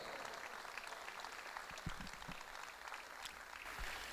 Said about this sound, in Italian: per ricevere l'applauso anche del pubblico